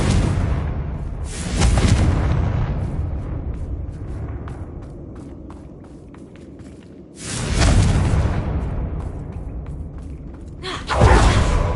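Explosive Confringo spell blasts in the Hogwarts Legacy video game: two loud broadband bursts about six seconds apart, each swelling and rolling off, with a third sharp blast at the end, no talking.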